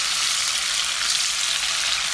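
Oil frying in a pan while Congolese makayabu salt fish and pepper are being prepared, a steady, even hiss and sizzle that stays close and unbroken throughout with no talk.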